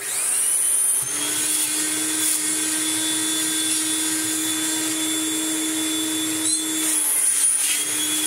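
A Kirby G4 upright vacuum cleaner runs with its hose attached for a suction check, a loud steady high whine with a strong droning tone and faint shifts in pitch as the hose is handled.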